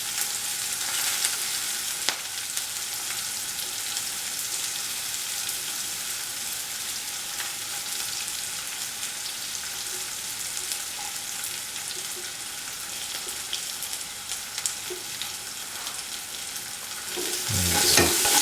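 Shallots, garlic and ginger fry in a pan with a steady, close sizzle and crackle throughout, broken by occasional scraping stirs, ending with a louder burst of sizzling as a tofu masala is cooked.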